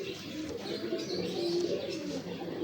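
A Ferozpuri pigeon cooing close by, soft low rolling coos repeating over a faint background.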